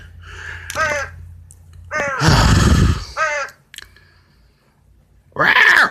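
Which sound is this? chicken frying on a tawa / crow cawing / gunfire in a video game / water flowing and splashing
crow cawing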